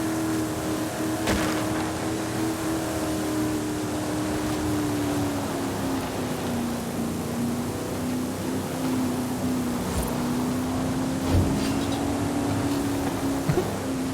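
In Forza Horizon 5, a car engine held at full throttle drones loud and continuous, its pitch sagging and climbing slightly, with a few faint knocks and thumps over the top.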